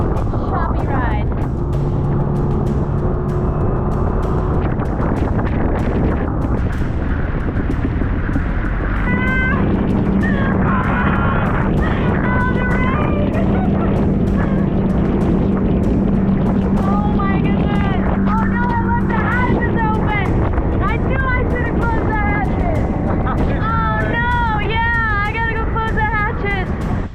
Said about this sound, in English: We're out of the water and headed back to the boat, and it is going to be a choppy ride